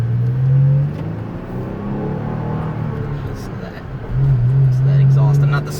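Toyota Tacoma TRD Pro pickup with a manual gearbox and a fresh clutch, its exhaust droning low and steady as it accelerates, swelling louder at the start and again near the end.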